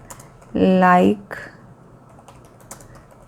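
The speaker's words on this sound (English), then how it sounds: "So my typing work is done." Typing on a computer keyboard gives a few scattered, close keystroke clicks, with a brief voice near the start.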